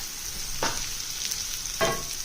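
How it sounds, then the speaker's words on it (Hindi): Carrots fry in a pan over a high flame with a steady sizzle, broken by two brief stirring scrapes. "अब मैं इन गाजरों को सिर्फ 1 मिनट तक ही कुक होने दूंगी"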